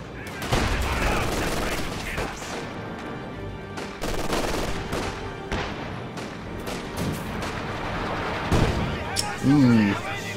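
Artillery barrage in a real-time strategy game from a mortar half-track and howitzer: repeated booming shots and rattling gunfire throughout, mixed with other battle noise and a commentator talking over it.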